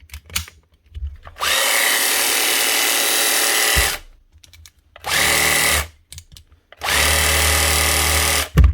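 A 2001 Makita DJV 180 jigsaw runs after a gearbox clean-out, three loud sustained motor whines separated by short silences and small clicks, close to the microphone with no talking.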